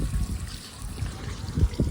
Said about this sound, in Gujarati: અત્યારે કુંડી ભરવા માટે પાણી શરૂ છે અહીં જો લાઈન શરૂ છે અહીંથી પાણી ઓલા પણ કેવો ફુવારો થાય છે